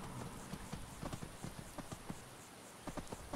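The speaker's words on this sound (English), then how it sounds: "Christ, I thought it was a horse then." Horse hooves clip-clop in the Skyrim video game, a quiet steady series of hollow knocks at an even walking pace, fairly faint under a constant background bed.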